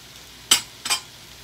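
Beef machaca sizzling in a frying pan, heard as two short, bright bursts of hiss and scraping about half a second apart over a quiet background, close by.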